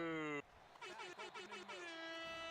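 An air horn sounds in a football video game broadcast, one sustained loud blast at the start followed by a rhythmic series of shorter honking tones, faint overall.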